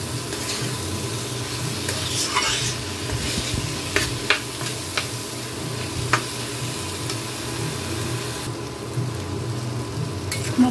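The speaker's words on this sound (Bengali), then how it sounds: "এখন এই মুগ ডালটাকে আমি মশলার সাথে একটু ভালো করে ভেজে নেব।" Moong dal frying with spices in a pan for sabudana khichuri, with a continuous sizzle and repeated scraping stirs and occasional utensil clinks, steady and close with no talking.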